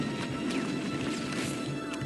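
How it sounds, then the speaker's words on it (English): Dense, continuous crashing explosions in the video game Halo 1, loud and layered across two seconds with sharp bursts over a rumbling bed and no speech. "Whoa, that's a lot of explosions."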